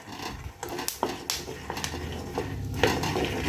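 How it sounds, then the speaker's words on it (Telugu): Peanuts are dry-roasted and stirred in a pan while cooking, with irregular scraping, rattling and clinking of the utensil against the pan, close and moderately loud, no talk. "ఈ విధంగా మనం పల్లీలు అయితే వేయించుకుంటున్నాము"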